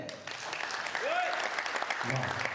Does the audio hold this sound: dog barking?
no